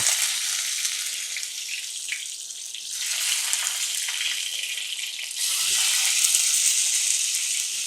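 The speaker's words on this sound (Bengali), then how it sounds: "টমেটোটাকে এইভাবে কেটে নিয়েছি, আর এটাও আমি হালকা একটু ভেজে নিব" A chopped medium tomato lightly frying in a pan, a steady bright hiss of oil sizzling close by that swells louder toward the end, with a faint knock near the middle.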